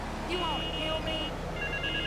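A payphone rings in GTA III Definitive Edition, short warbling electronic tones repeating over game background noise and brief voice sounds.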